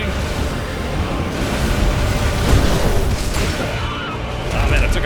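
Gunfire and explosions in the desert-world video game Dune: Awakening, a dense stretch of booming blasts and shots, loud and continuous with a few sharper bursts around the middle.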